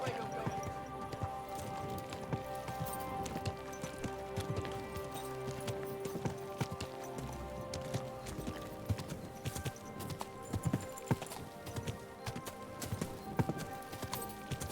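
Steady clip-clop of horse hooves at a trot, continuous and fairly loud, mixed with game ambience and occasional speech over it.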